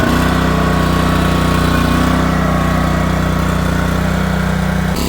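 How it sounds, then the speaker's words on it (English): A generator with a 2-cylinder Briggs & Stratton engine runs loud and close in an off-grid setting, with a steady, even engine drone throughout and no talking. "It's got a 2-cylinder Briggs & Stratton engine on it."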